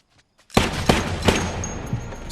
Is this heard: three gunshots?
yes